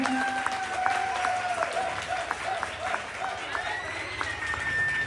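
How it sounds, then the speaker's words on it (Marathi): A crowd claps and cheers continuously at a garba night in Khopoli, dense steady applause with a faint tonal whistle or music line running through it. "टाळ्या वाजवा सगळ्यांनी."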